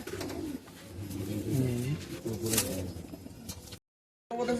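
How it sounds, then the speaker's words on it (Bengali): Pigeons coo in a pigeon loft, throaty rolling calls overlapping at close range, with fluttering and a brief silent gap near the end. "হরিশের পায়রা আছে ব্ল্যাক আইস"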